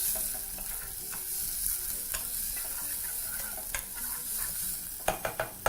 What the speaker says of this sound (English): using a wooden spoon, proceed to mix that together in your pot